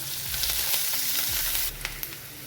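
Onions sizzle steadily in hot oil with coriander and mint while making egg gravy, a continuous crackling hiss with occasional stirring scrapes, close and fairly loud, no talking.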